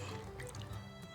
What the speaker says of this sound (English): Now we're going to pour our shot.